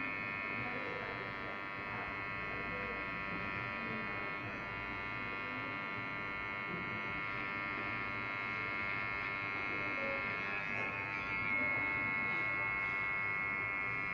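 An electric hair clipper buzzes steadily and faintly through a haircut, a constant droning hum with little change, heard throughout at low level.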